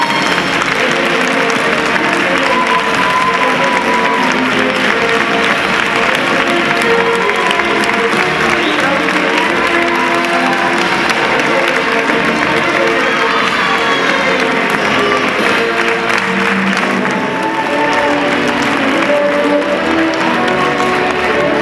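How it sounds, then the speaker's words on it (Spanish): Loud, sustained applause and cheering from a pageant audience for the top three finalists, a dense roar of clapping that holds steady throughout, with faint voices and music mixed underneath. "Fuerte el aplauso para estas tres clasificadas primera, segunda y tercera"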